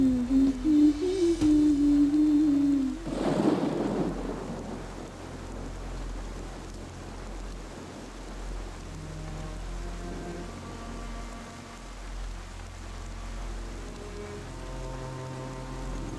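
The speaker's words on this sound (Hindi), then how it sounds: "ओ ये बारिश भी रुक नहीं रही है।" After a tonal hum, a sudden burst of thunder rolls in, then steady rain keeps falling with a broad, even hiss. No one speaks.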